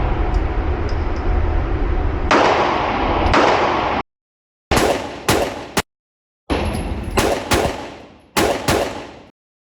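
Sig Sauer P365-AXG Legion pistol firing MagTech 115-grain 9mm rounds in slow fire: several loud, sharp reports come in separate groups, with short gaps of silence between some of them.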